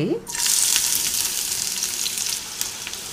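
Cloves, cinnamon, cardamom and onion pieces hitting hot oil in a pan, a loud burst of sizzling that settles into a steady crackling fry with no talking.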